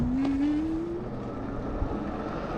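An electric bike motor pulling away from a dead stop up an 8% grade: a rising electric whine over steady road and wind noise, moderately close, with no talking.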